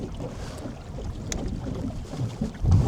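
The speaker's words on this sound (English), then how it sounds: "This wind is kind of dumb." Wind buffets the microphone during catfish fishing on a river, a steady low rumbling gust that swells briefly near the end, with no voices.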